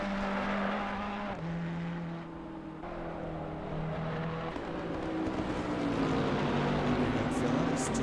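A Ferrari race car laps Spa-Francorchamps in a PC racing sim, its engine droning steadily with shifting pitch as other cars run close by, loud and continuous over the whole stretch.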